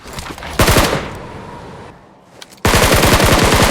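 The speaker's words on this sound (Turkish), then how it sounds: "Her yere mermi atıyoruz abi." Automatic gunfire in the mobile battle royale game PUBG Mobile: loud rapid bursts, a short one early, then a sustained volley after a brief lull, with no talk.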